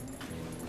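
A dog whimpers softly for less than a second while out on a walk, a faint high whine that stands alone with no talking.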